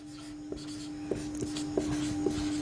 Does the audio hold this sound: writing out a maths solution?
yes